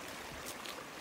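Water rushing steadily along a river beside a small bridge near Moraine Lake, a broad, even hiss of flow heard up close with no pauses across the whole second.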